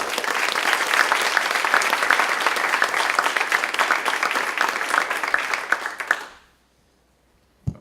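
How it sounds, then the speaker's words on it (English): A crowd applauds for an executive director being welcomed at a morning talk, dense steady clapping that fills the room for about six seconds before stopping abruptly into silence. "So will you welcome him with a round of applause."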